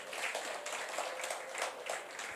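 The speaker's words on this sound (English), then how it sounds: "May you give yourselves a good round of applause." Steady applause from an audience of colleagues at a Western Cape business licensing consultation workshop, dense even clapping filling the room at moderate level with no pause.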